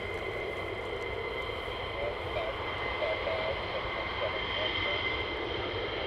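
A military jet at RAF Lakenheath, an F-15 or F-35, roars steadily while departing runway 24 during night flying operations, a loud sustained engine rumble heard from a distance with no speech.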